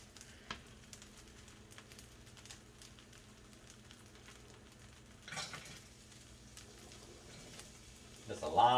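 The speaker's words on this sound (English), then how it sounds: "we stir the fried rice" Steak fried rice with vegetables being stirred in a hot pan, with soft sizzling and scraping under the faint hum of a kitchen and occasional utensil clatter, growing louder near the end.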